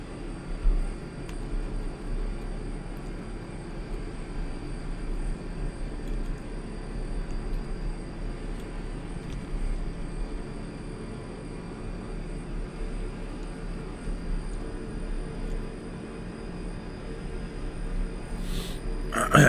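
Engines of a TU-114 airliner in Microsoft Flight Simulator X, a steady continuous droning roar and hum that holds evenly throughout at moderate level with no voices.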